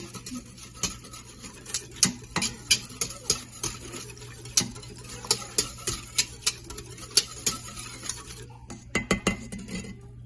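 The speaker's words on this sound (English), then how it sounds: "I'm just going to use a whisk to kind of stir this all together" A wire whisk stirring milk with yogurt starter in a metal Instant Pot insert, clinking against the pot in a steady run of close, sharp taps over a low hum, with no talk.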